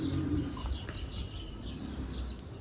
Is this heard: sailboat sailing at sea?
no